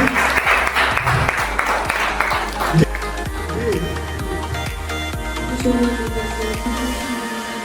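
Audience at a company associates' New Year meet applauding to welcome a speaker, clapping mixed with background music and crowd noise throughout.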